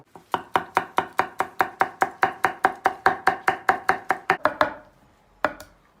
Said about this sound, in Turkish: Soğanımızın içine hemen sarımsaklar da doğrayacağız.